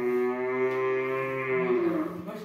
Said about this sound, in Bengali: গরুটা চড়ার টাইম হয়ে গেছে তো গরুটা চিল্লি শেষ করে দিচ্ছে।